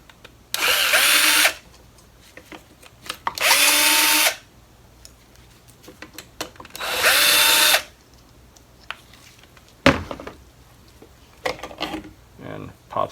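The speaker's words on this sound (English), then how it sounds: "once I loosen them, I could probably just hit them with the drill" Power drill loosening bolts on a Lexus water pump, three loud bursts of whirring about a second each, separated by pauses, followed by clanks and handling noise.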